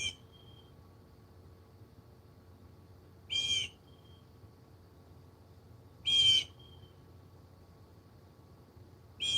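A single bird gives a sharp whistled call three times, about three seconds apart, each one clear against a quiet background.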